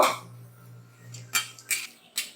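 A utensil stirs whole black pepper, cinnamon, cardamom, cloves and dried red chilies in hot oil in a pan, with a few sharp metallic clinks and scrapes spaced apart over a low background hum.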